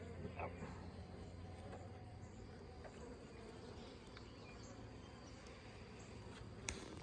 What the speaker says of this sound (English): And they got an abundance of bees already in here.